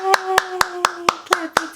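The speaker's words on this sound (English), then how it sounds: "Clap with me." Seven sharp hand claps at a steady, even pace, close and fairly loud, with a held sung or voiced tone running beneath them.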